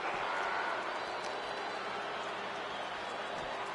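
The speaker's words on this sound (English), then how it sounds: "And do you hear this capacity crowd?" A capacity arena crowd in the WWE 2K wrestling game roars continuously as a dense wash of cheering and clapping, with commentary voices woven through it.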